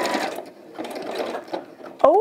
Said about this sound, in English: Just sewing over the opening and into the next corner.